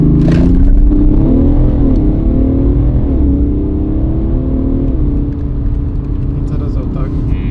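Diesel BMW F30 330d revving hard through a launch with the front wheels spinning, a loud, steady engine roar rising and dipping in pitch close by, with people talking over it throughout.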